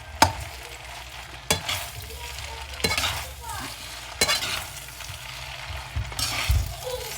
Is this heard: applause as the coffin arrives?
no